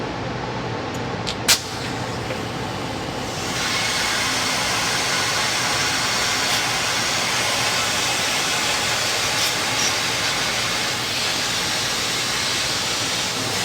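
Compressed air blows steadily over bolts during powder coating of logos, a loud broadband hiss that starts after a short click and holds constant for about ten seconds.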